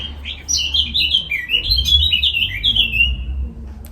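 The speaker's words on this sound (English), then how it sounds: "You hear the birds singing." Small birds sing outdoors close by, a quick run of bright chirps and tweeting phrases with a low murmur of background rumble beneath.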